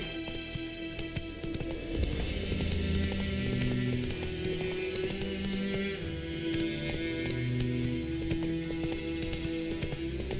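Geralt's horse Roach gallops in The Witcher 3, hoofbeats drumming in a steady running rhythm over a game soundtrack with swelling tones, loud and continuous throughout.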